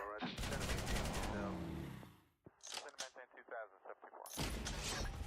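Artillery shelling and gunfire in the video game Noobs In Combat, a dense roaring barrage followed by a rapid series of sharp bursts and a renewed loud blast, with talk mixed in.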